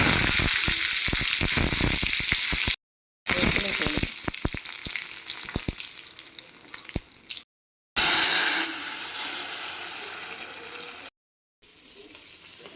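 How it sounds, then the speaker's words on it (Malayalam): Mustard seeds and dried red chillies fry in hot coconut oil with a loud, steady sizzle and crackle, broken by short silent gaps, the popping dense at first and then settling into an even hiss. "കടുക് ഉരുവ് കൊടുക്കാം ഉണക്കമുളക് ഇട്ട് കൊടുക്കും"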